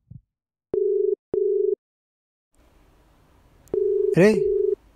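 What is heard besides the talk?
telephone busy signal, call not answered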